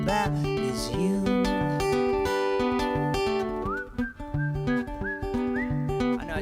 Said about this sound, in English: I know I just whistled a solo